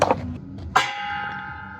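A single church bell strike rings out with a sharp onset and a long, steady sustain, following a brief scuffle of handling noise; no talking is heard during the tone.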